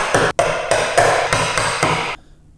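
Steel chisel tapped with a mallet into a knife line while chopping a cross halving joint by hand in wood, a run of about six sharp, evenly spaced, close knocks ending in quiet.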